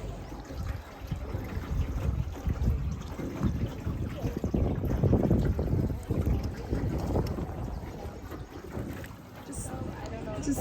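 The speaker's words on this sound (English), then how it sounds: "We're going on this boat" Tour boat gliding along the river at Tam Coc, Ninh Binh, with steady low water rumble and lapping, some wind buffeting, and soft voices in the background throughout.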